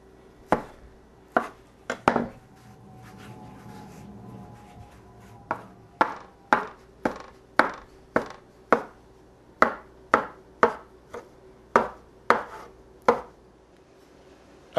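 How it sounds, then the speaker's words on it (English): A knife chops sharply through cauliflower gnocchi dough on a cutting board, about twenty crisp, evenly spaced strokes close up, with no talking. "I'm gonna finish cutting these, I'm gonna prepare them"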